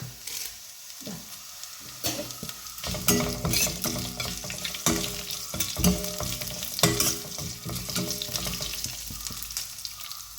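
Curry leaves and mild green chillies hiss and crackle in hot oil in a pan, a loud continuous sizzle with scraping stirs and spatters throughout.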